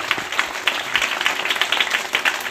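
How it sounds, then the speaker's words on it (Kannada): An audience applauding during a speech at an education event, with brief, dense, rhythmic clapping at a moderate distance. "ದೇಸಾಯಿ ಸರ್ ಅಂತ ಅವರು ಅವರಿಗೆ ಒಂದು ಜೋರಾದ ಚಪ್ಪಾಳೆ ಮೂಲಕ ಅಭಿನಂದನೆಗಳನ್ನು ಸಲ್ಲಿಸೋಣ"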